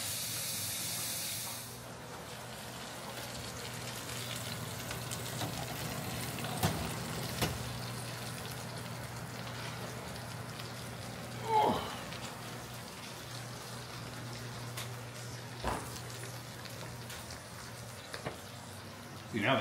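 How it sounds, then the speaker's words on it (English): Pot of moose bone broth at a heavy boil gives off a steady hiss and bubbling, with occasional soft pops and knocks over nearly twenty seconds, fairly quiet and unbroken. "I'm gonna bring this to a heavy boil"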